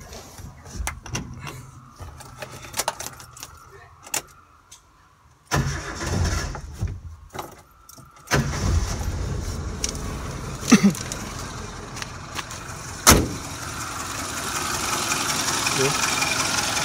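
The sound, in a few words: Suzuki Katana GX SJ410 engine starting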